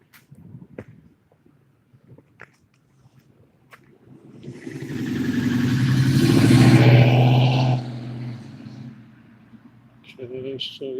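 A car passing on a city street at First Street and Vista in Los Angeles, its engine swelling from faint to loud over several seconds and then fading, with a little background noise at the ends.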